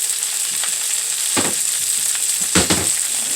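Food sautés in a hot pan with a continuous close sizzle, broken twice by short scraping bursts as the pan is stirred.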